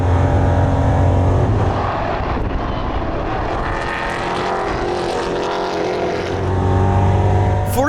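Heard from the cockpit, a EuroNASCAR race car engine drones steadily on a slow lap with cold tires. The loud tone swells and eases gently through corners over several seconds.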